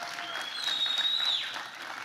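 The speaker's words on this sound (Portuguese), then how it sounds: "Queria que você desse uma salva de palmas pelos nossos pastores nessa noite" Church congregation applauding its pastors during an evening revival service, a steady wash of clapping with a whistle-like tone rising over it midway, brief and moderately loud.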